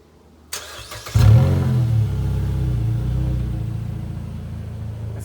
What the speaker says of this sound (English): Find out how she sounds without the muffler.